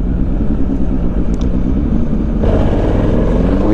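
A Honda 1100 Africa Twin DCT motorcycle from 2022 rumbles loudly and close, its engine note steady and low, then thickening as it pulls harder partway through, with no speech over it.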